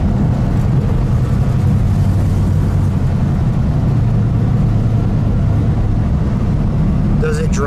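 A prototype 1949 Cadillac Coupe DeVille, a Motorama dream car, is being driven with a loud, steady low engine rumble and road roar. Voices talk faintly over the noise.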